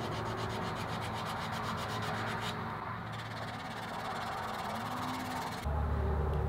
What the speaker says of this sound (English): I'll just start sanding the knob and the rear tote in preparation for the finish.